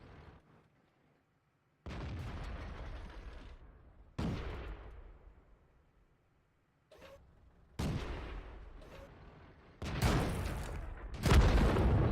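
A tank's ammunition rack exploding in World of Tanks: a series of loud, booming blasts, each decaying into rumble. They come in separate bursts with short silent gaps and grow heavier toward the end.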